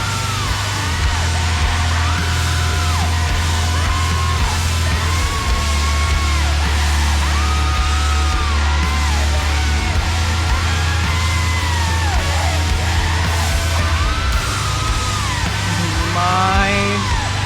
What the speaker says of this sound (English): Love the screaming.